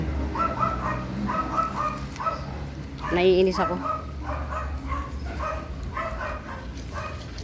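A dog barks and yips repeatedly in short bursts, with a brief louder whine partway through, while a person talks nearby.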